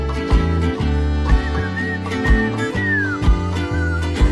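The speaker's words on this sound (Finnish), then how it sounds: "Käännän kantaa ja vihellän näin." A thin melodic whistle floats above a steady pop-rock song, a few short gliding notes threaded over the beat and bass.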